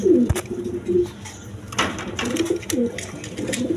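Pigeons of various breeds, including Rajgolla and racers, coo at a wholesale pigeon market, with soft repeated throaty calls close by, overlapping amid light rustling and background noise.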